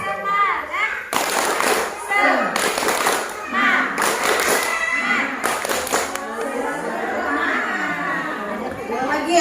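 A group of people in a parenting class performs a tepuk semangat chant-clap, with several bursts of loud clapping broken by lively chatter and children's voices.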